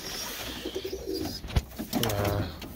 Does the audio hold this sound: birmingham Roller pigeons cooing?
yes